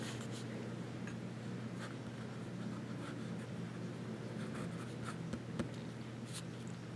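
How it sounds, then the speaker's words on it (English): Fountain pen nib scratching across paper, soft close strokes and small taps over a steady low background hum, continuous with no voices. "I just wanted to share this with you and do a little bit of writing"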